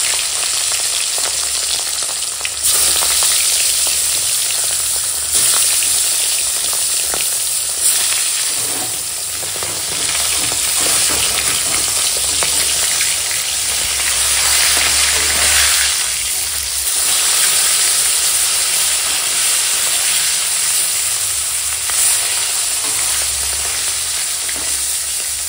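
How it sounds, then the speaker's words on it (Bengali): Pieces of katla fish sizzle and crackle in hot oil, a loud, dense, continuous frying hiss that swells and eases slightly over the long stretch, with no voices over it. "দিয়ে এখন মাছ ভেজে নেবো।"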